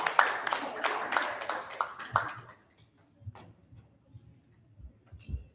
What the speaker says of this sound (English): Let's clap for them as they stand.